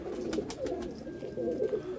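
A pet pigeon, a one-tail breed kept for flying, coos softly up close in low repeated murmurs, with a few brief higher chirps over the steady sound.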